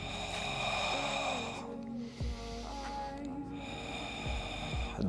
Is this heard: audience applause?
no